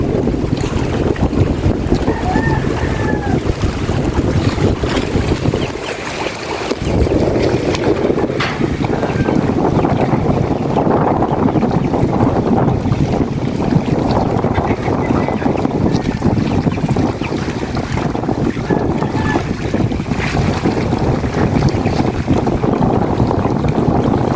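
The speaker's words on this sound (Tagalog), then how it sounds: "Sobrang lakas ng hangin kanina." Typhoon wind roars continuously across the microphone, buffeting and gusting with a constant rushing noise, like open water nearby, with no talking, amid light drizzle.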